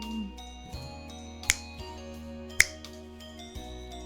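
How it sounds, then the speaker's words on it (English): Fingers snap during a role-play session of the game Legend of Heroes: Trails of Cold Steel, two sharp isolated clicks a second apart over a quiet background of soft music. "That was me snapping my fingers."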